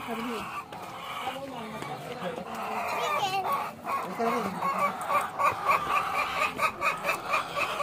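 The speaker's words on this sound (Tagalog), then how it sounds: "ito ang daming chicken" A flock of chickens clucks and squawks close by, overlapping calls building in a busy, rhythmic chorus.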